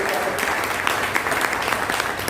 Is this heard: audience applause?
yes